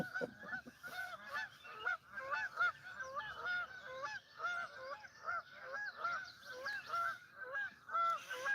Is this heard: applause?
no